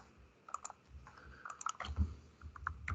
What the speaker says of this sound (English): let's just quickly type in ABC PLC